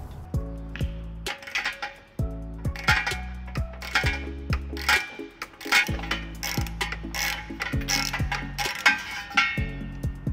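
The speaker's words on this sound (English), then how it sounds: "We're going to be using a 15mm socket and an 18mm socket." A ratchet and socket works a bolt out of the frame of a 2017 Dodge Grand Caravan during a trailer hitch install, giving repeated bursts of close, clicking pawl sounds with short pauses between strokes.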